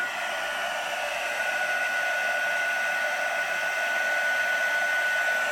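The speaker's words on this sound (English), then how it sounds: "let's go ahead and emboss those with our embossing powder and our heat tool again" A heat tool melts embossing powder on a seaside-themed birthday card, giving off a steady, loud, even blowing hiss much like a hair dryer, unbroken throughout with no voices.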